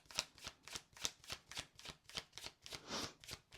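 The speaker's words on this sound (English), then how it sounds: "shuffling, I'm like holding the cards really tightly." Tarot cards are shuffled by hand in a quick, even series of close riffling bursts, about a dozen crisp flutters in a row with no talking.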